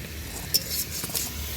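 Vegetables and spice paste fry in a pan, giving a soft steady sizzle with light stirring scrapes and a faint metallic clink, close and quiet, with no voices.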